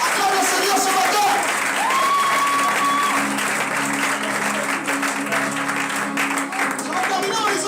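A church congregation applauds together during a French-language worship service, a steady, dense wash of clapping that holds for the whole stretch, with faint sustained tones and voices mixed underneath.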